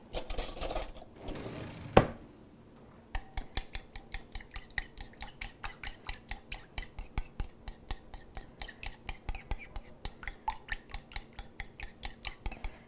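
A salad dressing of oil, vinegar, salt and pepper is mixed in a bowl. After a brief louder start, steady quick clinks of the utensil against the bowl repeat evenly and close up.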